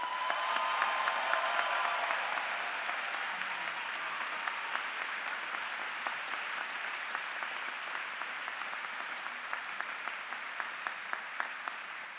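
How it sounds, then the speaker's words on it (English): Sustained applause from a convocation audience welcoming the ceremony's speaker, a dense, even wash of clapping heard from within the hall that holds steady for the whole stretch with no voices over it. "join me in a loud and enthusiastic round of applause for your speaker"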